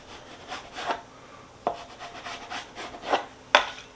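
A knife or scraper cuts through a sticky, wet three-ingredient bread dough, giving a few soft rasping strokes and sharper scraping touches against a board, close and fairly quiet with no voices.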